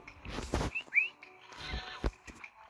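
A person gives a couple of short, rising whistles to call a dog amid quiet outdoor rustling and soft thumps.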